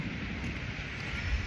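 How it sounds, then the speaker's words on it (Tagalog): A strong, cold wind buffets the microphone at Haeundae beach in Busan, a steady low roar and rumble that fills the whole stretch with no voices. "lakas ng hangin."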